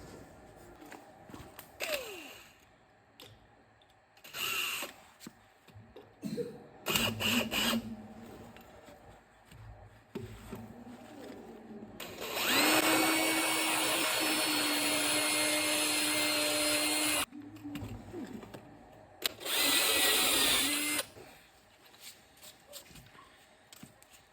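A power drill whirs loudly in two sustained bursts on a CNC plasma table, the longer one lasting several seconds, with scraping and knocking sounds in between.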